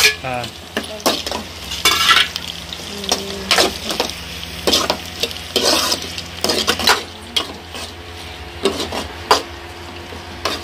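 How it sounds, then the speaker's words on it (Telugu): Onion sizzles in a pan on a home kitchen stove, a soft continuous frying hiss broken by repeated sharp clinks and scrapes of a spoon stirring against the metal, close and without talk. "ఉల్లిపాయ ఫ్రై అయిందంటే తొందరగా వేసుకొని"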